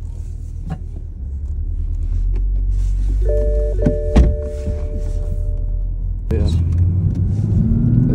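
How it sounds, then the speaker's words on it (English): Toyota GR Supra A91 on a track at a media launch, its engine rumbling low and close inside the cabin with a brief rev, a thunk and a short spoken word. "So today I want to drive the Supra"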